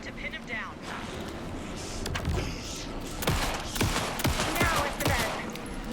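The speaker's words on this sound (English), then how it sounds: "Shoot him to pin him down." Gunfire in the video game Alan Wake 2 during a cell confrontation, a series of sharp loud shots cracking through dense, noisy game ambience, with characters speaking over the action.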